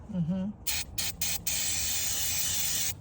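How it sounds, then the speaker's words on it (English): A brief voice, then several quick spray bursts followed by one long continuous hiss of a spray bottle of cleaner onto a rag for cleaning an EGR valve, close by. "I'm gonna spray onto the rag here"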